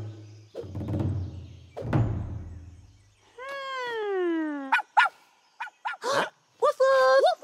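A cartoon puppy gives a run of short yapping barks and squeaky yips, close and loud, following a couple of heavy thuds at the start.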